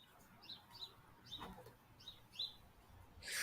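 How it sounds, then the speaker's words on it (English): Birds chirping in the background at 1 a.m., a handful of short high tweets repeating every second or so, faint and distant over a low hum, with a brief louder rustle at the end. "cool to hear the birds in the background"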